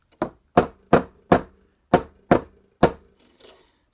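Metal being forged, struck with a hammer against a flat bench block laid on the workpiece: seven loud, sharp ringing blows in a steady rhythm, then two lighter taps, close up with no talk.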